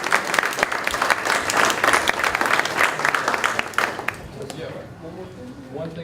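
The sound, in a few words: audience applause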